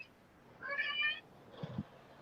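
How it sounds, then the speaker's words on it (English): A hungry cat lets out a loud, strained meow with a creaky, squeaky-hinge quality. A shorter, lower mew follows a moment later. Both are close by, and no one talks. "That's my cat telling me it's time to eat."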